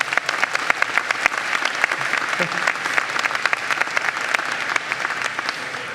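A large audience at a university graduate commencement ceremony applauds, dense sustained clapping filling the hall with sharp individual claps standing out.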